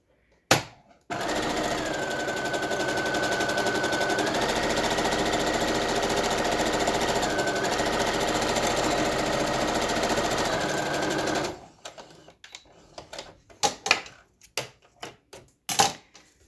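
A sewing machine runs in one long steady burst while stitching a face mask seam, its fast needle rattle holding a near, even drone before stopping, followed by a few scattered clicks and handling knocks.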